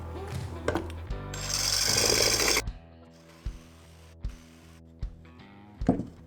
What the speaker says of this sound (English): To save time, I'm just going to use a reciprocating saw with a plastic or PVC cutting blade.